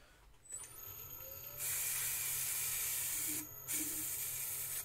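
Aerosol lacquer sprays onto a turned wooden vase in two bursts, a short one and then a long steady hiss, with a brief pause before a final spray.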